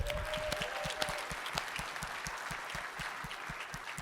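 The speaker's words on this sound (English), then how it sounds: "so round of applause" Keynote audience at a tech conference applauding a game's coder, a steady wash of many hands clapping at moderate distance, sustained for several seconds with no talk over it.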